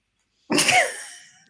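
A woman coughs once, sharp and forceful, after a Heimlich maneuver, spitting up blood; a single close, loud burst that trails off briefly.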